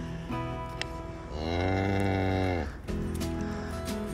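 A cow lets out one long, loud moo in the middle, with quieter animal sounds and barn noise before and after, among willow windbreaks.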